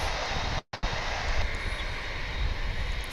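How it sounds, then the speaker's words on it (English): An American Airlines airliner departs Dallas/Fort Worth International Airport for Los Angeles, its engines giving a steady, broad roar at a distance, with a brief dropout early on. "We've got an American flight headed out to Los Angeles"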